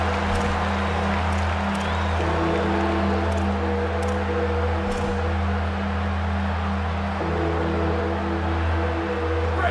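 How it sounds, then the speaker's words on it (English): A football stadium crowd at a UCF versus Houston game roars steadily after a big third-down play, a dense sustained wash of cheering with a few sharper claps and whistles, no commentary over it. "And if you didn't know this was a big play, the crowd is telling you."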